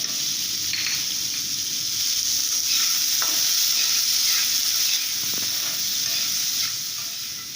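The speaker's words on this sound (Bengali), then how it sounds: "এবার আলুগুলো হালকা ভাজা হয়ে গিয়েছে" Continuous hissing sizzle of potatoes frying in a little oil, with occasional scrapes and taps of a spatula stirring, close and steady.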